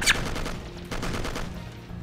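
Video game gunfire from Will Rock rattles on in a steady burst of repeated shots, fairly loud and close, with a sharp crack at the start.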